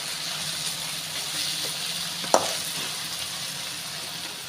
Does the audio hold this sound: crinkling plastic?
no